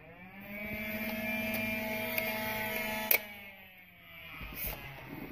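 A Nerf Stockade blaster's motor spins up for a test run, a steady electric whine with a buzzing hum that holds for about three seconds, then a click and the drone fading as it winds down.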